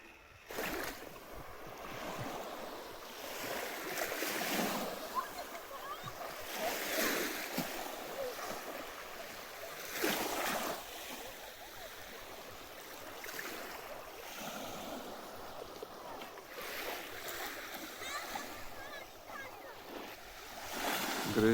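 Sea surf rolls onto the Estonian coast in steady, repeating surges, with gusts of wind buffeting the microphone throughout and no voices.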